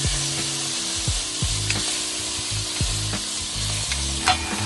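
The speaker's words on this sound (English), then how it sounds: "Add the aromatics, which are the tomato, ginger, onion, and garlic." Tomato, ginger, onion and garlic sautéing in oil in a pan, a steady close sizzle broken by repeated scraping stirs of a utensil, with no voices.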